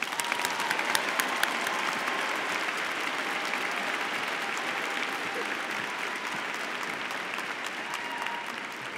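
At a university psychology commencement, a large crowd claps for graduating honors students, producing steady, sustained applause with a few sharper nearby claps over a broad wash of hands in a big hall.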